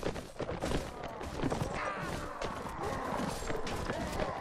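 Cavalry horses galloping in the video game Mount and Blade, a dense rumble of hoofbeats mixed with battle clatter and scattered gunfire, heard under someone talking.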